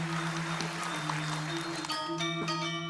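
Faint audience applause fills a university graduation ceremony hall in Bali, a soft continuous patter with a steady tonal hum beneath it.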